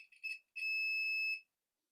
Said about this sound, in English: we can hear the beep also on this side